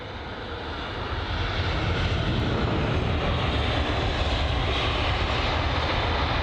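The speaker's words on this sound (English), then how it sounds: "So this here, the British Airways A320 CEO, or the A320-200s, arrived from Lyon" A British Airways A320-200 arriving from Lyon rumbles in to land at London Heathrow, a broad, steady engine roar that swells slightly and holds, with no voices.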